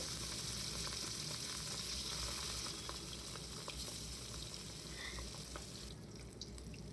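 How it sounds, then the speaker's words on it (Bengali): Constant hissing sizzle of catla fish pieces frying in hot mustard oil in a wok, steady and moderately loud throughout, with occasional faint pops and no talking. "আমি কড়াইতে সর্ষের তেল গরম করে নিয়ে তাতে 3 পিস কাতলা মাছ ভেজে তুলবো"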